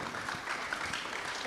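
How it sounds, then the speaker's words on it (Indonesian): Applause from an audience at a public gathering, continuous dense clapping at moderate distance for the whole moment, fairly quiet and even. "boleh kasih tepuk tangan."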